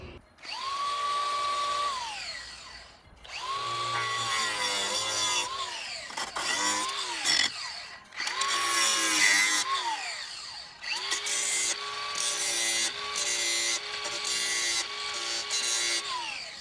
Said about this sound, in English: he's sanding it down so that he can get ready to prime it